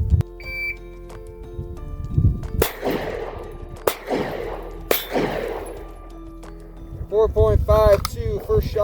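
Three loud pistol shots on an outdoor range during an FBI qualification course in Tonopah, Arizona, evenly spaced sharp cracks with ringing decay, amid wind noise and people talking.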